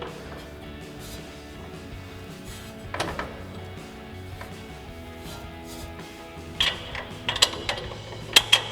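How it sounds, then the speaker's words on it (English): A small pry bar levers a lift-kit strut into position on a truck, giving soft metallic clunks and scraping, then a cluster of sharper clinks near the end. "quite convenient to use a small pry bar to kind of maneuver everything into position. So we'll lift up on our strut just to get it underneath."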